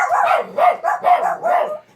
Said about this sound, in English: That's just our dogs.